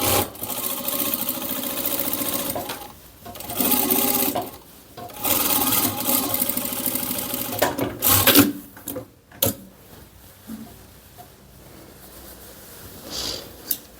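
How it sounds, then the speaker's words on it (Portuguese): Sewing machine stitching a hem along the top of a fabric pocket for a cloth tote bag, running in several steady bursts separated by short pauses, close and fairly loud with no talking. "Aqui na parte superior do meu bolso eu vou fazer uma bainha."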